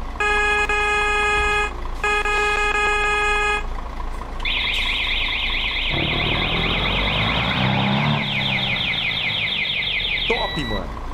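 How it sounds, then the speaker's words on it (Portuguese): A loud truck horn in Euro Truck Simulator 2 with a V8 sound mod blares in sustained tonal blasts, with a second deeper horn tone and engine rumble following, all steady and close. "Escuta a buzina."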